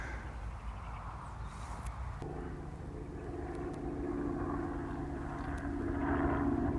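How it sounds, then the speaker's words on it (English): A helicopter flies over open countryside with cows and sheep nearby, a low steady droning hum that grows gradually louder across the clip, with faint outdoor background. "There's a helicopter flying above"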